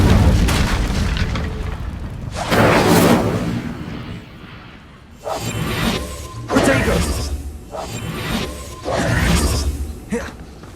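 Incendio fire spell cast in Hogwarts Legacy bursts out in repeated loud whooshing blasts and booming flares, several bursts separated by short lulls, with game ambience underneath.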